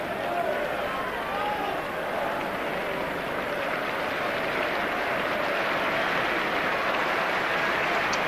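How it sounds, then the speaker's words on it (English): A stadium crowd at a 1989/90 First Division match between Arsenal and Liverpool applauds Perry Groves as he leaves the pitch, a dense, steady wash of clapping and crowd noise under a commentator's voice. "Applause all around the ground for Perry Groves as he is about to disappear down the tunnel now"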